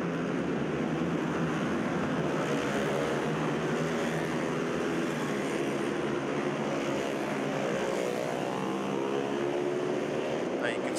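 Superbikes in a Malaysian championship race pull away from the start line under the safety car, a dense, continuous engine roar with rising whines, heard as a steady wash behind a commentator's voice.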